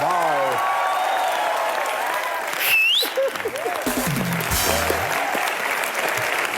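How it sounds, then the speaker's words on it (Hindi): Loud applause from a studio audience at a comedy talk show, a steady dense roar of clapping with a rising whistle and music swells breaking through, ongoing from start to finish. "जोरदार तालियां एक बार यार।"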